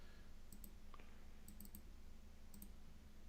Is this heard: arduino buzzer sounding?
no